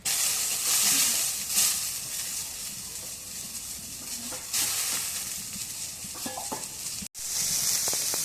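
Onions frying in a pan alongside eggs, a loud close hiss with a few scrapes, briefly cut off near the end before sizzling resumes.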